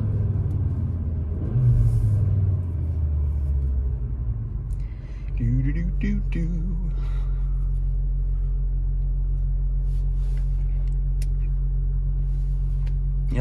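Audi RS3 8Y with its 401 hp engine drives along, a deep steady exhaust drone rising briefly as it revs, then settling into a constant low rumble; a voice speaks a single word early on.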